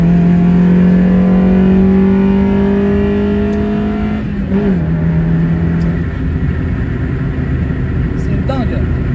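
A Mazda MX-5 converted to ethanol flexfuel pulls in third gear from about 3000 rpm. The engine note climbs steadily under acceleration, then shifts and roughens, with someone talking over it.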